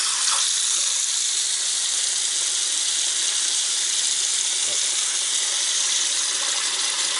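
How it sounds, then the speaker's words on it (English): A kitchen tap runs steadily into the sink during dishwashing, making a constant hiss and splash with faint clinks. The water runs a bit slower than normal, and no one talks. "Water seems to be running a little bit slower than normal."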